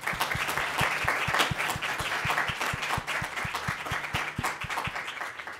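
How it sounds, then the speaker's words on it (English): Applause for a programming committee and staff at an evening event, a crowd clapping steadily while one person nearby claps in a loud, regular beat that stands out throughout. "I want to make sure we give you a round of applause."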